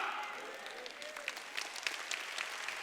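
Church congregation clapping during a Wednesday worship service, a steady wash of many hands with scattered sharper claps, moderately distant and fairly soft, with faint voices mixed in.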